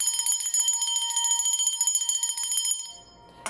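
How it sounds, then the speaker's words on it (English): A ringing bell sounds in a quick, steady series of bright metallic strikes with shimmering overtones, close and loud, then stops and leaves a brief decay. "I'm also gonna ring the bell for the 5555 energies."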